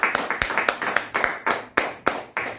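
A church congregation claps for the Lord in steady, rhythmic unison, with sharp, evenly spaced claps close up and no voices over them.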